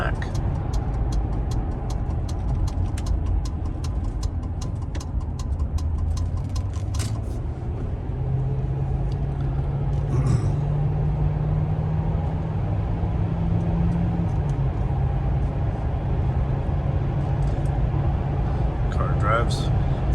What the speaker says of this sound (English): resuming our driving in this 2002 Ford Crown Victoria. Gonna jump on the freeway and take a few miles down and a few miles back.